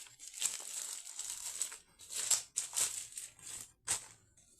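Crinkly plastic rustling in several short bursts, close and quiet, like a card sliding out of a plastic sleeve.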